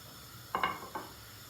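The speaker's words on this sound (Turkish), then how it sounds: "Ciğerimizi döküyoruz içine." Chicken liver tipped into a pot of boiling water, giving two short splashing pours about half a second apart, fairly close over a faint steady kitchen background.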